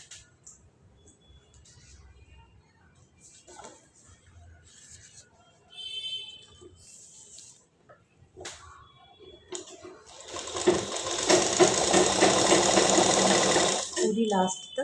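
Sewing machine stitching a half collar on a garment, a dense steady whirr rising in the last few seconds after quieter handling sounds, close by with faint background talk early on.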